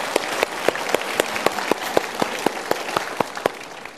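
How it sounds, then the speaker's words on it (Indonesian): Audience applause at a motivational talk, a full bed of clapping with sharp, regular individual claps standing out near and loud above the crowd. "Kita berikan tepuk tangan."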